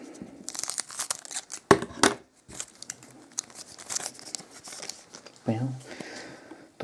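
Pack of 2016 Panini Select soccer cards being torn open by hand, with crinkling foil wrapper, sharp rips and rustles in irregular bursts, close to the mic, mixed with someone speaking Russian.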